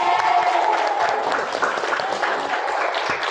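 A class of vocational accounting students claps for three classmates who scored full marks, a dense broadband patter of hands filling the room steadily throughout, with some voices mixed in.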